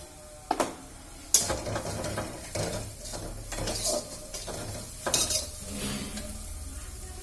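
Two eggs dropped onto spice masala in a pan sizzle and fry, with sharp metallic clinks and scraping from a utensil against the pan at irregular intervals, close and moderately loud.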